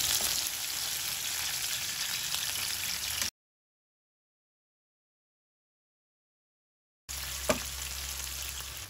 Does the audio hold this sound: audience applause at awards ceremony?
no